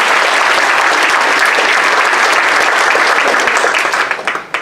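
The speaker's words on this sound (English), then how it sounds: "Give Caesar a nice round of applause." An audience giving a loud, dense round of applause, many hands clapping steadily and close before tapering off in the last second.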